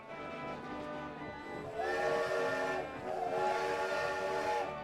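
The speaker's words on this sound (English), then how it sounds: "people are boarding the train" A passenger train in the Rollercoaster Tycoon video game sounds a tonal whistle or horn that swells in the second half, steady and fairly loud over a rumbling game background.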